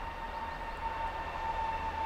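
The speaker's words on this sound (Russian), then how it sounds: "Электричка рядом, шумно ужасно." An electric commuter train passes nearby: a steady loud rumble with a sustained tonal whine, continuous and close, with no speech over it.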